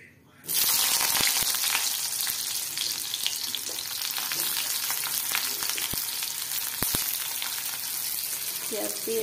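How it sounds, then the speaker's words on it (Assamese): Onions go into hot oil in a wok with a sudden burst of sizzling that then continues as a loud, steady frying hiss, marked by a few sharp stirring clicks, close up with no talking. "এইফালে একেখন কেৰাহীতে পিঁয়াজ দি দিম।"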